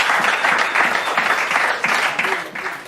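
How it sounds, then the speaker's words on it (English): A large crowd at a charity football match applauds Clarence Seedorf with steady, dense clapping that holds throughout and eases slightly near the end, loud and close with no clear speech. "he deserves a round of applause for that"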